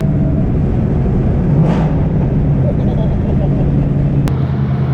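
SVT Terminator Cobra V8 with a new header exhaust, a steady deep rumble from close by that holds a constant drone throughout, with a brief swell partway through.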